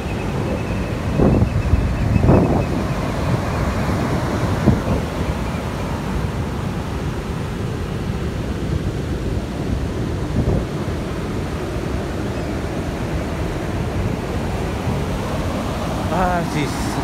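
Ocean waves washing onto a beach in blustery weather, a continuous broadband roar of surf mixed with heavy wind buffeting the microphone, with a few brief louder gusts.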